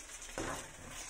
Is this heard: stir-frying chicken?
yes